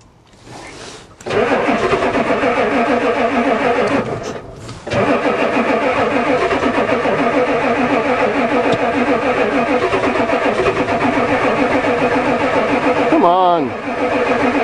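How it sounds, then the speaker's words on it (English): A diesel Ford truck engine cranks on the starter without catching, a steady loud rhythmic churning that runs for many seconds with a brief break, and voices can be heard over it. "It's cranking good."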